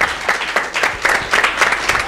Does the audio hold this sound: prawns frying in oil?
no